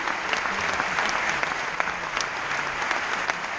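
Sustained clapping from a festival crowd welcoming jury members, an even, busy texture of many hands with occasional crisp louder claps, steady throughout.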